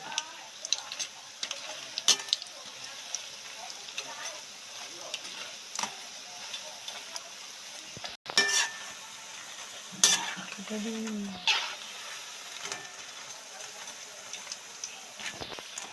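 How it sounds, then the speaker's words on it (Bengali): Cauliflower pakora frying slowly in a pan of oil over a low flame, a soft steady sizzle with scattered ticks and occasional clatter of a utensil, plus a brief low tonal sound midway. "লো ফ্লেমে দিয়ে আস্তে আস্তে ভাজতে থাকবো পকোড়াটা"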